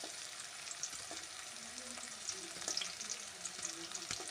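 Green chilies frying in oil with tomato and onion for a green gram bajji dosa filling, a soft steady sizzle with light stirring, faint and continuous.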